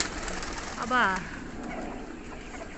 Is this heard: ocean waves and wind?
no